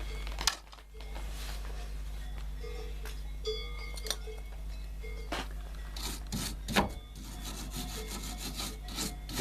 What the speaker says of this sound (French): brosse bien le boulon qui bride la rotule, celui en dessous